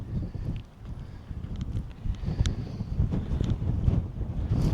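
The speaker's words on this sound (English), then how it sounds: "It's very windy though." Steady gusting wind buffets the microphone on a countryside hilltop near Ardales, Andalusia, a rough low rumble that rises and falls throughout, with faint outdoor sounds beneath.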